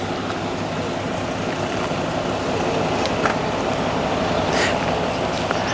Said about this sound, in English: After this train passes